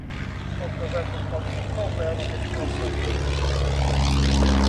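A propeller-driven monoplane trainer aircraft, an aerobatic type once flown by the RAF, runs its engine with a steady droning buzz that grows gradually louder as it nears, heard alone without talk.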